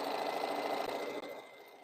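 A sewing machine stitches the last part of a quilt seam in a steady, close, continuous motor whir with a brief dip near the end, and no talking over it.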